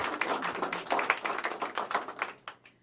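An audience at a governor's proclamation event for Sexual Assault Awareness Month claps in scattered applause that sounds fairly distant and fades out within a few seconds.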